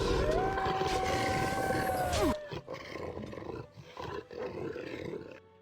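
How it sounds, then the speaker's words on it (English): A war dog in Dragon Age: Origins lets out its howl ability, a loud, sustained roaring cry that sweeps upward then cuts off abruptly, followed by scattered combat noise. "Poochie, do a howl"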